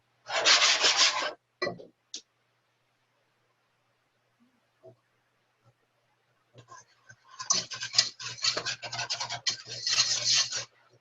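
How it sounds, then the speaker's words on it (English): Flour whisked into melted butter in a pan, giving bursts of dense scraping and rubbing, one at the start and a longer stretch near the end, close and fairly loud, with quiet scattered taps between. "Okay, so I whisked in my butter and my flour."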